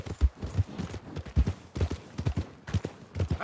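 A horse in Red Dead Redemption 2 clip-clops along at a steady walking pace, hooves striking in an even rhythm, close and clear with no voices over it.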